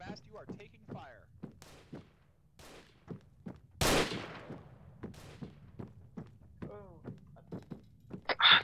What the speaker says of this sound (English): we're being shot at from the darkness